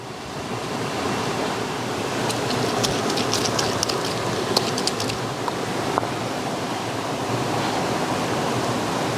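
A waterfall and rushing stream roar in a loud, continuous wash beside an outdoor spot where cassava is being cooked, with faint small clicks surfacing through the steady noise.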